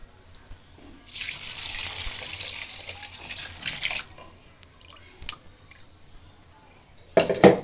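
Milk and water poured into a pot of fried rice for beef biryani, a steady rushing liquid pour lasting about three seconds, followed by quieter handling noises and a brief louder clatter near the end.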